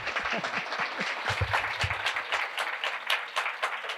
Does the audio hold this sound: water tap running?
no